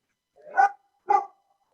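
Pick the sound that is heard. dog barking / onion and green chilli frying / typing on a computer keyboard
dog barking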